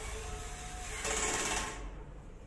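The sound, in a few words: electric screwdriver assembling IKEA Hyllis shelf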